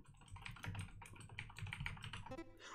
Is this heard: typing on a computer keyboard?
yes